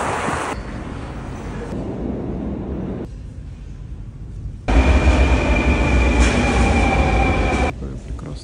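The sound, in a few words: Kazan metro subway train ride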